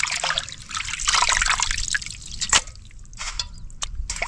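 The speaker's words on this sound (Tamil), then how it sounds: "ரெண்டு அலசி அலசிக்குவோம்" Raw chicken pieces being rinsed by hand in a vessel of water while cooking kozhi kuruma, with steady dripping, trickling and splashing close by, one sharper splash partway through, and no talk.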